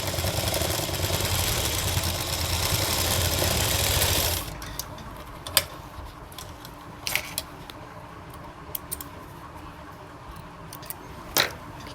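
A sewing machine runs steadily for about four seconds, stitching elastic onto a dhoti salwar, then stops, leaving a quiet room with a few scattered clicks and small knocks of handling.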